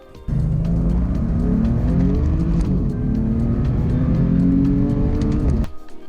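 A 60,000-mile BMW M4 accelerates hard from 30 to 70 mph on damp roads, its engine note rising loud and close through a steady surge, with a brief dip at a gearshift.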